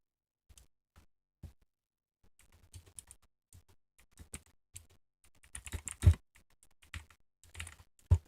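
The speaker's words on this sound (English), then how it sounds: "now you can hear me typing" Typing on a loud computer keyboard, with irregular bursts of clacky keystrokes, quiet and close, building to denser, harder strikes toward the end, with no talking.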